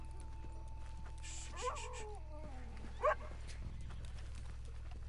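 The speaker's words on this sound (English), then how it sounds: "That's the dog, isn't it?" Dog in the Red Dead Redemption video game, a short whimpering whine and yip against a steady low background hum, with a brief bark-like burst, fairly faint and alone without talk.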